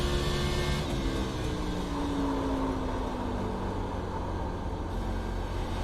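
An Xfinity race car in the iRacing sim at World Wide Technology Raceway (Gateway) drones at high, sustained revs, its engine note sliding slowly downward as it holds speed, loud and continuous without voices.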